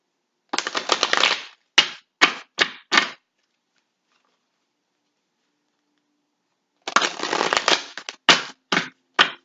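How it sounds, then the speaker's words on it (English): Oracle cards shuffled in two bursts, each a riffle-like rush followed by several sharp, separate taps as the deck is squared, close and loud, with silence between the bursts and no talking. "now we're going to do shuffle my 8 oracle cards"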